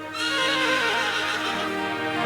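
A horse whinnies loudly and close, a long quavering neigh that rises and then trails off over about two seconds with no talking.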